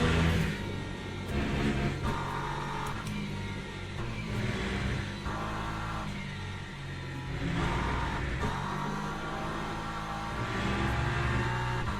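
Porsche race car engine in Le Mans Ultimate at Silverstone, a loud steady mid-pitched roar that rises and falls with repeated revving and gear changes over twelve seconds, with no voice.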